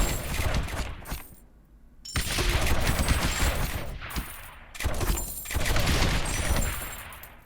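Rapid bursts of launching and impact fire from ballistas and mortars in the tower-defence game Rogue Tower, loud and dense in two long volleys separated by a brief lull, with no talking.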